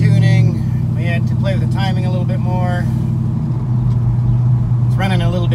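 A small-block Chevy V8 running slightly lean through a Flowmaster Hushpower HP-2 muffler: a loud, steady low idle rumble continues throughout while someone talks over it.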